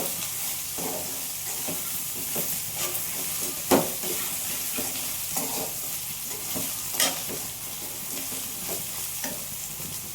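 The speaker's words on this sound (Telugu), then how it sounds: "అరటికాయ బాగా వేగింది." Raw plantain slices frying for a home-style stir-fry, a dense continuous sizzle under repeated scraping stirs and a few louder spatula knocks against the pan, close and steady throughout.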